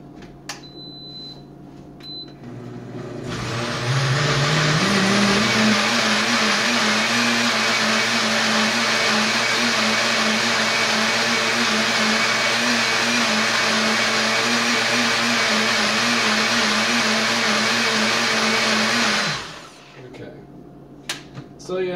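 An electric blender whirs through a smoothie, starting up loud and steady, holding a high motor whine for about fifteen seconds, then cutting off into quiet room sound.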